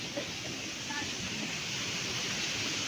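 Strong rushing water roars as a loud, unbroken wash of noise, constant and close throughout.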